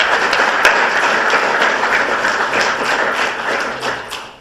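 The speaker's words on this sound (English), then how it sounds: "So real hand of applause for all of them." Applause from the audience at an energy and innovation panel event, loud and dense, made of many overlapping hand claps that hold steady and then begin to taper off near the end.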